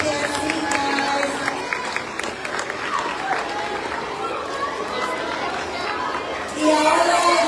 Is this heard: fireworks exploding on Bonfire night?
no